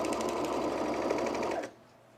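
A sewing machine stitches steadily along the long curved edge of a pair of overalls, a close, even whirring run that stops abruptly near the end, leaving near silence.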